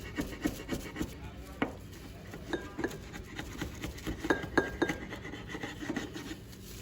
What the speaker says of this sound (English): Remove glue leavings. Just use a chisel.